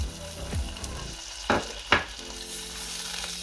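Fatty sausages frying in a pan for cabbage sour soup give a soft, steady sizzle up close, broken by a few sharp clinks and knocks, with no talking.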